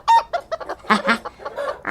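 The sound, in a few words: chickens clucking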